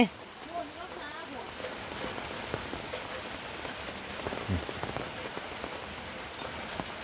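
Steady heavy rain pattering on a nearby surface over flooding rice fields, with scattered sharper drops ticking through a continuous wash.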